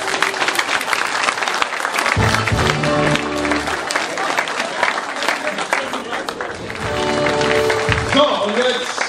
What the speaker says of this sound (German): der Applaus, der kommt genau jetzt.